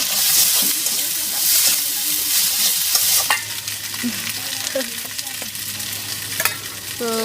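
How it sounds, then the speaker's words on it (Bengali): Taro is stir-fried with salt, turmeric and whole cumin: a steady frying sizzle runs under repeated scrapes and clinks of a utensil being stirred through the pan, close up. "কচুটা আমি সুন্দর করে মশলার সাথে নেড়ে চেড়ে কষাই নিয়েছি"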